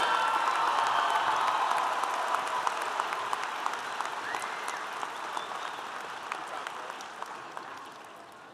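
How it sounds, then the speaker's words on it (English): High school graduation audience applauding ten scholars, a broad sustained round of clapping that fades gradually, with scattered sharper individual claps standing out as it thins. "give one more round of applause for these 10 distinguished scholars"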